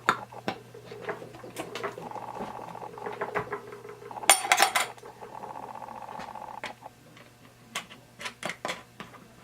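The main lid goes onto a rock tumbler polish barrel with a string of close plastic clicks, taps and rattles, then a cluster of sharper snaps, and more scattered knocks near the end.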